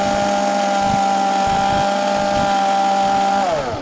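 A kitchen mixer blender running on rose milk ingredients, a loud steady motor whine with faint rhythmic thumps of the pulsing blades, the pitch dropping slightly near the end as it slows.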